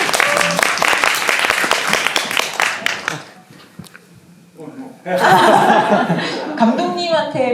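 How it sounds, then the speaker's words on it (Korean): An audience at a film screening talk claps and laughs, a burst of applause with chuckles mixed in, fading to a quieter murmur before another loud swell of clapping and laughter. "박수!"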